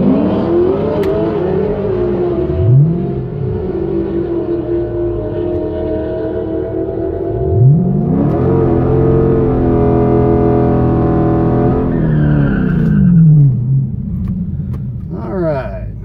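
A 2016 Dodge Challenger SRT pulls hard on a drag strip in hot weather, its engine climbing loudly through repeated rising sweeps as it shifts, heard from inside the car.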